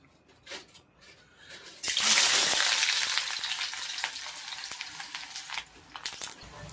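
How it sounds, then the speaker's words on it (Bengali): Onion hits a hot wok and bursts into loud, continuous sizzling that starts abruptly after a few soft clinks, then settles into steady crackling frying with occasional taps of a utensil. "তো পেঁয়াজ দিয়ে দিয়েছি, এখন এটা ভেজে নেবো।"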